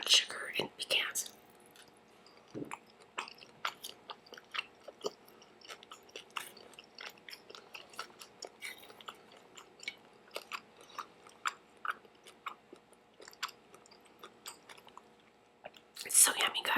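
Soft, close chewing and wet mouth sounds from someone eating a homemade grape salad with cream, vanilla, brown sugar and pecans, scattered irregularly with quiet whispering around them.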